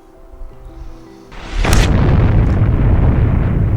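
A deep supernova explosion effect bursts in after a low tonal drone, then swells into a loud, sustained, roaring rumble that fills the remaining seconds.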